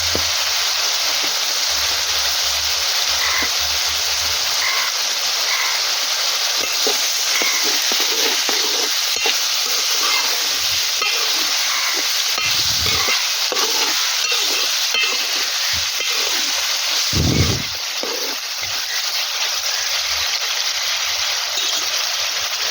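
Pieces of country chicken fry in hot oil with turmeric, giving off a steady loud sizzle with occasional stirring clatter and pops from the pan.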